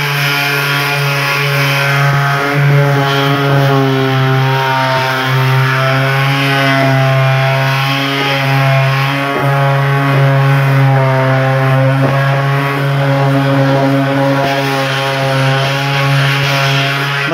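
A sanding machine working over a filled, puttied surface during an indoor repair, a loud steady motor whine with a strong hum that holds throughout, slight load changes as it moves.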